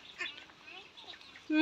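Ducks quack in a few short calls at close range, mixed with other bird chirps and a brief voice, outdoors in a village.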